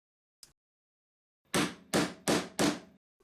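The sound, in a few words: hammer striking a hole punch through gasket material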